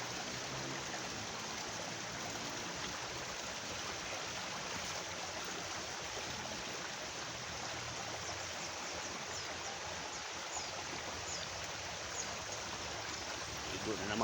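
Steady rushing volcanic spring water from Mayon Volcano flows continuously, a broad even wash of a stream with no pauses, close and moderately loud throughout.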